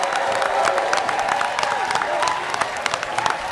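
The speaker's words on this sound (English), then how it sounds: "Give them a big round of applause." At a Navy Fleet Week cooking competition, a crowd applauds the teams with dense, sustained clapping mixed with faint cheering and crowd noise, under a hum of background sound.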